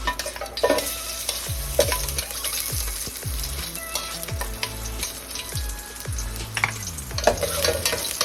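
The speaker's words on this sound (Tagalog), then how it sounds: "Ngayon, ilalagay ko na una ang bawang." Garlic sizzles steadily in hot oil while being stirred, with repeated scraping strokes of a utensil against the pan over a continuous frying hiss.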